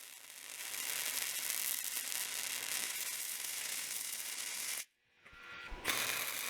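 A flux-core wire welder lays a tack weld joining a hook onto a tractor bucket, a loud continuous crackling sizzle for several seconds, then a brief silence and a second short burst.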